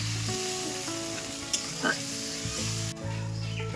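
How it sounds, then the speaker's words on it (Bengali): Ground spice paste with chopped tomato and a splash of water sizzles steadily in a pan, with a continuous hiss broken by a couple of brief stirring knocks. "টমেটো দিয়ে এবার ভালো করে মশলাটা আমি কষিয়ে নেবো"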